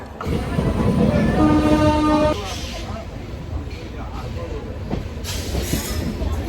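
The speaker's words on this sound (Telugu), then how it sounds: "ట్రైన్ స్టార్ట్ అయిపోయింది" A train pulls away from Cherlapally station toward Warangal: a loud sustained horn blast is followed by a rolling rumble and scattered clanks of the moving carriages, with voices in the background.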